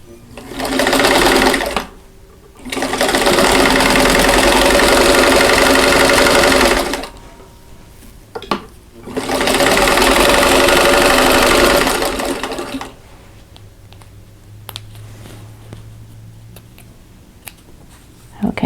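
A sewing machine stitches quilt block pieces in two long continuous runs of rapid, steady whirring, separated by a brief pause, then stops, leaving quiet handling noises.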